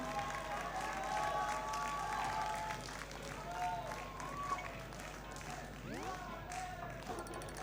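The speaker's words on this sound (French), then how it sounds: "on peut l'applaudir" Audience at the Toulouse Game Show senior video game bowling final applauding, moderate clapping under an announcer's voice and tonal game sounds, tapering slightly partway through.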